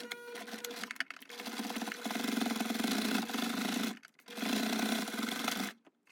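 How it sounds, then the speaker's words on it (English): Sewing machine stitching a seam along a pot holder, running in two long steady bursts of fast, buzzing mechanical chatter with brief pauses between them, close and fairly loud, no voices. "I'm going to sew down this line"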